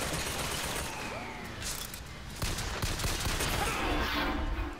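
Enemy gunfire in Bioshock Infinite, dense sharp volleys crackling over a noisy combat background, growing heavier and louder toward the end.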